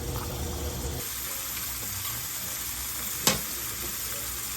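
Food searing in a hot pan while preparing a budget dinner, a steady close sizzle and hiss lasting throughout, broken by one sharp clack partway through.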